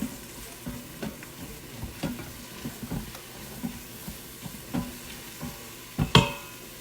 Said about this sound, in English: I'm going to use the mix and scraper to stir them around in here so they don't burn